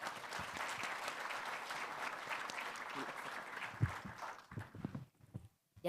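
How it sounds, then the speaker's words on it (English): Applause from an event audience for a panel at AfyaFest 2025, a steady wash of clapping for several seconds that thins out and fades near the end. "Let's give them a round of applause."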